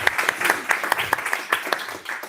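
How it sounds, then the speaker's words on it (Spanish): A small audience claps briefly after a talk, a loose patter of individual hands, close and fairly loud, thinning toward the end. "Excelente, un aplauso."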